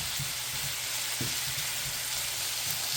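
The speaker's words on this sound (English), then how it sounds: "cook our sausage" Sausage sizzling steadily in a frying pan, a constant close hiss with a few soft stirring bumps, no voices.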